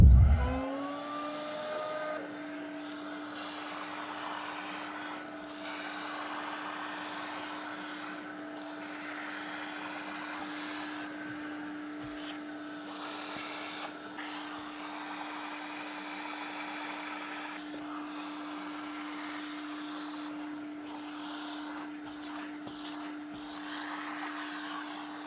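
A carpet extractor runs continuously on a car's interior during a detailing job, producing a steady motorized whine and suction roar after a brief startup, with intermittent rubbing and scrubbing textures and no voices.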